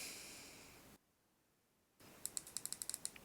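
About ten quick, crisp clicks from the tactile fire button of an AMiGO Chain Reaction vape device come in an even, rapid series, close and fairly quiet, with no talk.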